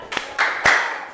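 A group claps out the rhythmic Indonesian 'tepuk semangat' cheer in a classroom Islamic lesson: three sharp, spaced claps, each louder and more sustained than the last, with a faint hum of the room between them.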